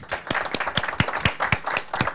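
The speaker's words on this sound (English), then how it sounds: "big applause for Foo Café" Audience applause at a tech talk event held in a café venue, a few close, distinct claps in a loose rhythm over softer scattered clapping behind them.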